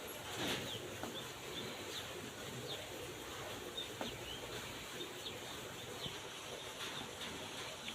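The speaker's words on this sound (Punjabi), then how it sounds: "ਮੌਜੀ ਕਬੂਤਰੀ ਚੱਲੀ ਅੰਦਰ" Soft pigeon coos repeat against a steady outdoor background hum, faint and somewhat distant, with occasional light chirps.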